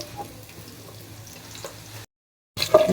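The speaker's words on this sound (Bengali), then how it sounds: "তেলের মধ্যে ভেজে নিব।" Onions, green chillies and garam masala fry in oil with a low, even crackle, broken by a brief silence before a louder burst of sizzling and clatter.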